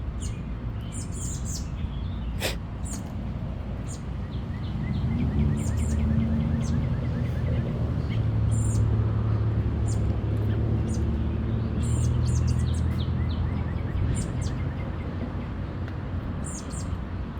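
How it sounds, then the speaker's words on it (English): Small birds in the countryside chirp in short high bursts scattered over a low rumbling background, the calls fairly close and recurring every second or two. "These little birds"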